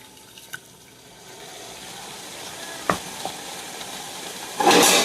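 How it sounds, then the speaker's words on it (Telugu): Water poured into a pan of ivy gourd and tomato curry sets off a sudden loud hiss and sizzle near the end, after a quieter stretch of low simmering with a couple of light knocks. "ఈ వాటర్ వేసేసుకుందామండి."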